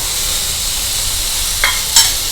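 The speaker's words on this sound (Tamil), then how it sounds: "தேங்காயை வந்து அந்த சூட்லேயே ஒரு பெரட்டு பெரட்டிக்கலாம்" Roasted coconut stirred in a hot pan with the stove just switched off, a steady soft sizzle with two brief scraping strokes near the end, no voice.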